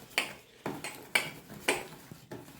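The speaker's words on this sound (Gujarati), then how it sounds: "આ જો સરસ એકદમ હલકું થઈ જાય ત્યાં સુધી ફીણી કાઢવાનું છે" A whisk beats fruit-free fasting biscuit batter in a bowl until light and airy. Close, rhythmic strokes clack against the bowl roughly every half second, with no talk.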